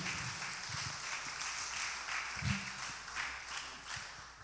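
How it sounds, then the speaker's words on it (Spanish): Church congregation at a Sunday school service claps together, a lively, somewhat rhythmic wash of hands with a few louder individual claps and faint voices mixed in. "Dele palmas al Rey de Reyes."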